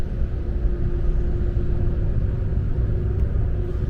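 A long-haul truck rolls along a wide road with a steady low engine drone and rumbling tyres, heard from inside the cab without any break.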